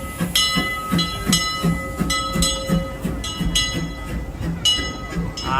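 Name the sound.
Disneyland Railroad train, E.P. Ripley locomotive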